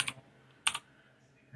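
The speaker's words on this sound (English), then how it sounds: "we're just going to type flash" Typing a command on a computer keyboard in a UEFI shell during a Gigabyte/AORUS BIOS flash: two short clusters of crisp, close key clicks separated by a brief pause, with quiet background in between.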